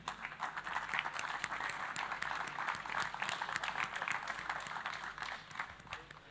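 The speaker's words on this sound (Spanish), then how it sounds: "¿Lo vamos a aplaudir? Claro que sí." Audience clapping in a hall at a 2022 congress, welcoming engineer Lisandro Bada onto the stage; steady dense applause fills the whole stretch without a break.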